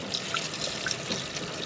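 Ice-cold water runs from a kitchen tap for shrimp and crab boil deviled eggs, a soft steady trickle with faint drips, quiet and alone.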